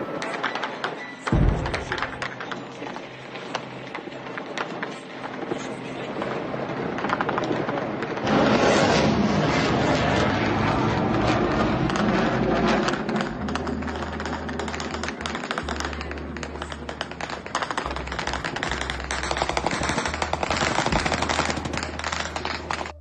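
A Russian air defense system firing, heard as dense, rapid bursts of gunfire-like cracks and pops that continue for a long stretch, louder in the second half, over a low rumbling background.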